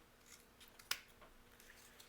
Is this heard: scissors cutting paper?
yes